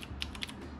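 A few soft keystrokes on a computer keyboard, faint and close, two slightly sharper clicks standing out over a low background hum.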